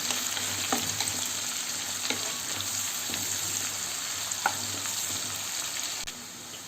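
Onion, green chilli and tomato fry in oil for Hyderabadi chicken dum biryani, an even, close sizzle with faint periodic stirring scrapes that softens at the very end.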